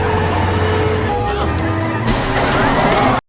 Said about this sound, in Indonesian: Joshua terus menabrakkan mobil Zane